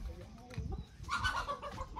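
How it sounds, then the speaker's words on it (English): Chickens clucking nearby, a few short throaty calls over a low background murmur. "Stay away from those chickens, man."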